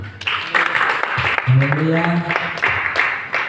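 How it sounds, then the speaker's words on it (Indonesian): A church congregation claps hands in praise during a worship service, a dense patter running under a preacher's loud, ringing voice that keeps calling out over it. "mari kita tepuk tangan bagi Tuhan"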